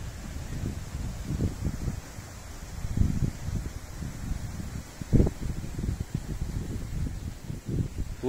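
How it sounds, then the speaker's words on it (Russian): Strong wind buffets a microphone outdoors at a fishing spot, a continuous low rumbling roar with gusty surges and no voices. "ветер сильный очень"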